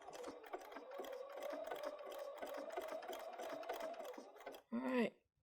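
Embroidery sewing machine stitching, a steady close mechanical whir with a fast needle rhythm that runs for several seconds, cuts off, and is followed by a short burst of higher tone.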